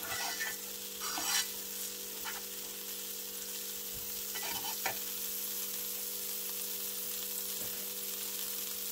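Oil fries in a thin pan over low heat, a steady close sizzle with occasional scrapes and taps of a utensil, and no one speaking.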